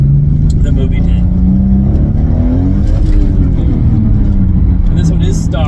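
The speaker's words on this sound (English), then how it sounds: "That was spinning the wheels pretty good there at the top of first gear." Stock Toyota Supra twin turbo with a six-speed revs hard in first gear on cold pavement, a loud continuous engine drone rising in pitch as the wheels spin, with a voice talking over it.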